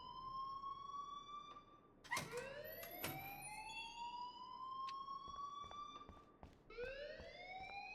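Wailing electronic alarm in the video game Life Is Strange, a rising and falling siren-like tone that sweeps up and holds steady, sounding continuously and fairly loud with brief sharper bursts mixed in.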